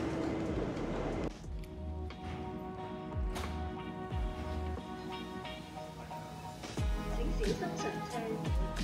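Rumbling interior of a moving airport train at Hong Kong International Airport, steady low hum with clunks and rail noise, with some background voices.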